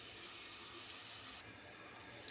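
Coconut milk poured into a pot while making coconut milk rice, a faint steady liquid rush that drops off partway, then a quieter trickle.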